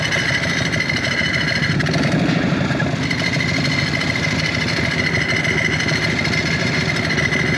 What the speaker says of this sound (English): difficulty starting the motorcycle